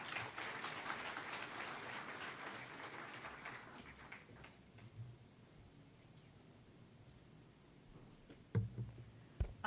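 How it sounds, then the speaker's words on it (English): An audience at a freshman orientation applauds an alumna speaker, with faint, distant clapping for about four seconds that fades into quiet room noise and a few thumps. "Can we have a huge round of applause for her?"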